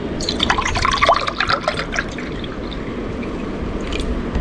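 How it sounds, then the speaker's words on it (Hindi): Juice poured into glasses, a steady liquid stream with faint splashing and dribbling close by, continuous for a few seconds. "तो अभी हम जूस डालते हैं।"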